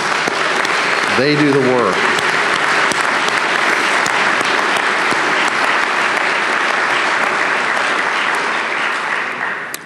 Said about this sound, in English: I would like to give them a round of applause